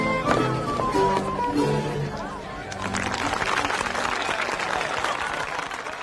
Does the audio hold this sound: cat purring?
no